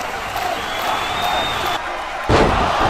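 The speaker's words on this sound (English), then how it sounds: "The crowd goes absolutely wild" A wrestling video game arena crowd roars in a steady, broad wash of cheering, then a heavy slam hits the mat and the noise jumps louder.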